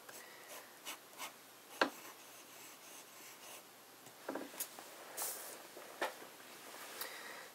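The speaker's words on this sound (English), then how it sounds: "Very wet nib this. This is the Lamy Safari." Close, faint scratching of a wet-nibbed Lamy Safari fountain pen writing J. Herbin Orange Indien ink on paper, with intermittent short strokes and soft taps over a quiet background.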